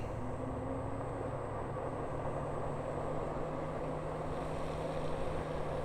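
A Super Ride S1000 being ridden at speed past a roadside radar gun trailer gives a constant, loud rumbling roar of motor and wind noise that holds steady throughout, with no talk.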